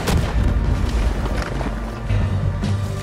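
Cannon fire during a mission in the video game Red Dead Redemption 2: heavy, continuous booming rumble with dense low-end blasts layered over loud battle noise throughout.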